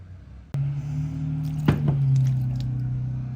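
Ice-cold water poured all at once into a pie crust dough mixture in a bowl, a sudden close splash followed by a brief wet squish and a steady low pouring hum, with no voices.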